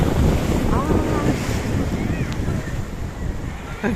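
Steady low rumbling wind buffeting a microphone, loud and continuous throughout, with a faint wash of surf beneath.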